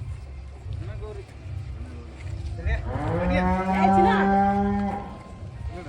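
Cattle on a dairy farm, one cow giving a loud, drawn-out moo in the middle, with background farmyard noise and people talking nearby before and around it.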